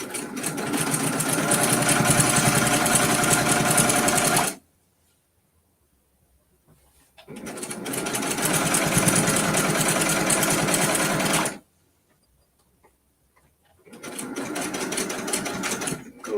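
A domestic sewing machine stitches binding onto a mini quilt in two long, steady runs with a pause between them, then starts a third run. The motor whirs loud and close, with a rapid needle chatter, and nobody talks.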